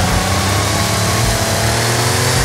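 A DMC DeLorean with a lightly tuned stock engine revs steadily in Forza Horizon 5. The engine drone is loud and continuous and heard alone.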